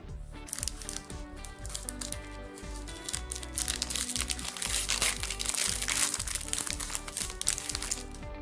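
Pokémon Unified Minds booster packs being torn open, with continuous close crinkling and crackling of foil wrappers and ripping, growing louder and busier midway through.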